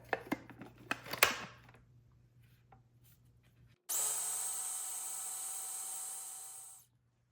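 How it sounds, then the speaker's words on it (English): A grinder whirs steadily for about three seconds, turning two cups of oats into fine flour for homemade dog treats, after some quieter handling and knocking noises. "First step is we're going to grind 2 cups of oats into a fine"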